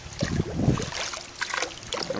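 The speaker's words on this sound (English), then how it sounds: "we're going to rinse out the tubes" Water splashes and trickles briefly as small plastic swimming pool test kit tubes are rinsed out, a close, faint sloshing with a few quick splashes.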